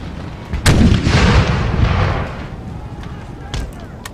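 Cannon artillery fire in an American Civil War strategy video game: a loud booming blast followed by a rolling rumble, then a second, fainter report a few seconds later.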